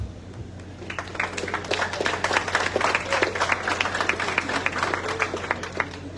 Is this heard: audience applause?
yes